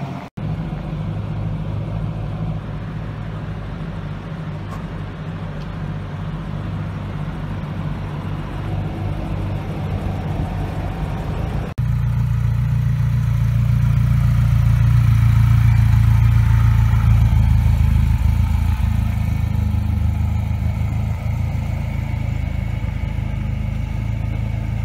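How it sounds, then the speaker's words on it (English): A Nissan Z's engine runs at a low idle for about twelve seconds, then grows to a louder, fuller rumble as it revs, heard close with no talking. "I'm taking the Nissan Z for a quick spin."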